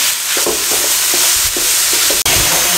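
Sliced onion fries loudly in a pan with a dense, close sizzle. Scraping stirs of a spatula recur at a steady pace.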